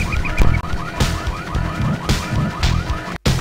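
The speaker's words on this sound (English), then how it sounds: "Well, who set off the alarm?" An alarm blares in the video game Full Throttle, a loud repeating warbling tone cycling steadily about twice per second, alone with no talk.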